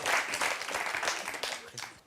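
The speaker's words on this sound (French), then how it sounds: "on vous applaudit très fort" A studio audience at a French television show about mentalists gives a participant a brief, dense burst of applause, steady and fairly close for about two seconds.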